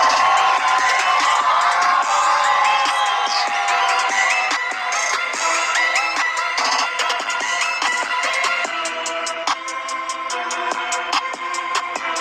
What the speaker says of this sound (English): Let's get some applause going.